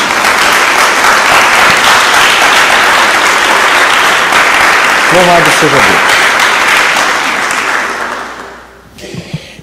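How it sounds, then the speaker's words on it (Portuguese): A church congregation applauds loudly in praise of Jesus, dense clapping that fills the space for several seconds before fading away, with voices calling out over it. "Dê uma salva de palmas a Jesus."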